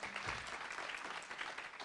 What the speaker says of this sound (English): will you give a round of applause for our 3 reporter moderators, Michael, Rachel, and Brenna?